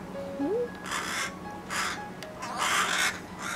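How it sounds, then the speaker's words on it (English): A crow caws several times in separate harsh bursts, fairly close, with a faint whistling bird call at the start. "Crows will just stay nearby,"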